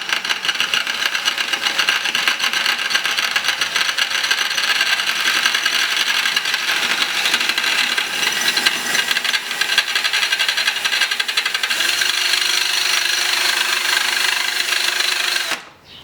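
A drill grinds steadily into the aluminium casing of a Quantum SCSI hard drive, a loud, continuous rasping whine that runs unbroken for about fifteen seconds before cutting off abruptly.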